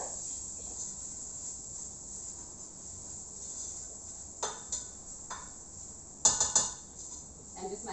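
A spoon scrapes spices around a cooking pan for channa dhal with turmeric, a few faint, short scraping strokes spaced over a quiet background hiss.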